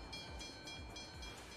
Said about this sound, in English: whoa, you got like cars and like train.